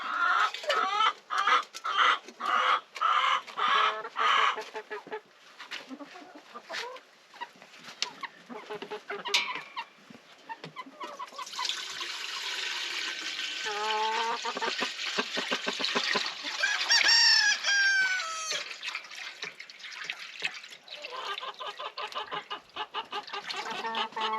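Chickens cluck and squawk outdoors in a winter coop, with repeated bursts from several birds near and far, a busy stretch of overlapping calls in the middle and higher squeals toward the end.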